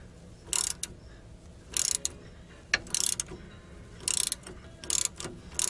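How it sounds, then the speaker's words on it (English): A ratchet loosens a tie rod nut on a 1997 Chevy S10 4x4 front end in quick bursts of clicking, several short rapid runs separated by pauses, close and crisp. "Taking the nut off is not that hard though."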